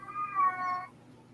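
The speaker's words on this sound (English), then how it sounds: "Your cat is overly vocal tonight" A house cat lets out one long, drawn-out meow, clear and fairly loud in a quiet room, rising and falling in pitch before fading to faint background hum.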